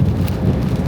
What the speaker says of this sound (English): Been through some rain today.